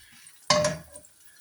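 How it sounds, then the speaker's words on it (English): A frying pan is lifted and set down in a home kitchen while flatbread is being made, giving one clear metallic clank with a brief rattle that quickly fades, close by and alone. "And then let's get the frying pan, which I put somewhere on top of the bin."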